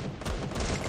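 Rapid gunfire from a competitive 4v4 online shooter match, dense bursts of shots running continuously through the whole second at steady loudness, no talk over it.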